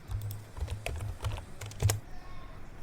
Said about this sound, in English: Once done, type exit